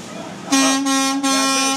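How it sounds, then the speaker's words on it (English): Vehicle horns blare loudly in a sustained tonal honk, briefly dipping twice, with background traffic noise and no talking. "I'm sure they're honking for the drone, Brian."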